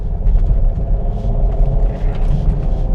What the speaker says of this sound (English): It could just be how the engine sounds.